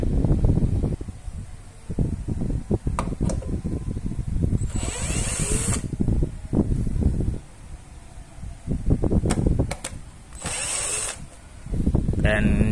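Bolts being unscrewed from a Kingkong 256a lighting mixer, heard as close bursts of a small power driver whirring, separated by pauses and clicks.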